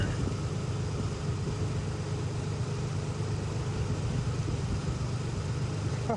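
A Nissan 300ZX engine running just after its first start in nine years, giving a steady, dense rumbling drone that holds even and unbroken throughout, close by and without talk.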